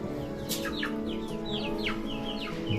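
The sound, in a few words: young chickens (chicks) cheeping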